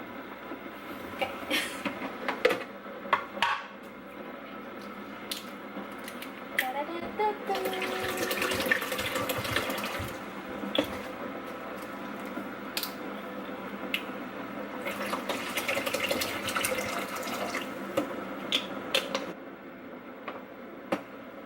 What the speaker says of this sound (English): I'm gonna add 2 small bottles of water